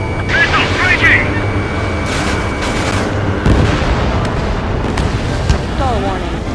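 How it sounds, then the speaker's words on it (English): Missile strikes and explosions during aerial combat in Ace Combat 7, a dense barrage of booms and blasts over jet roar, with voices talking across the action. "Missile striking!"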